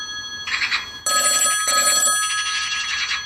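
Telephone ringing on an outgoing call to someone, two clear ring bursts with a short gap, loud and close with no voices over it.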